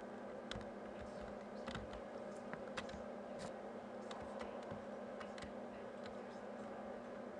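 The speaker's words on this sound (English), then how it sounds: "what's with all the tapping? And why is the keyboard shaking?" Tapping on a computer keyboard, heard as scattered light clicks and taps at irregular intervals over a steady background hum, fairly faint and with no talking.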